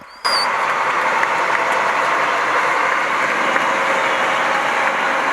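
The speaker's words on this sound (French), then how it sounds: "C'est juste après que le chef de l'exécutif provincial a pris place à bord d'un engin qu'il va actionner pour lancer officiellement les travaux sous les applaudissements de la population." A broad, steady roar of crowd applause fills the air as a provincial governor boards a construction machine to launch roadworks in Haut-Katanga, starting abruptly and holding loud and even throughout, with a brief whistle at the very start.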